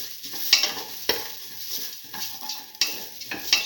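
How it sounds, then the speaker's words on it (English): A spoon stirs and mixes lentil rice in a hot pan, producing repeated scraping strokes and sharp metal clinks over a light sizzle, close up and without talking. "Start to mix thoroughly."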